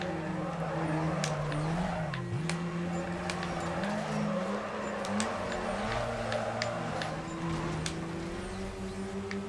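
A car drifts in Need for Speed: Carbon, its engine droning steadily while tires squeal in long wavering tones, with sharp clicks and impacts scattered throughout at close range.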